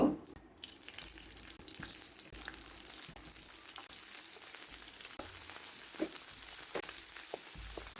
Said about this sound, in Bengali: মাছগুলো আগে এক পিঠ ভেজে নেব, তারপরে উল্টে দেব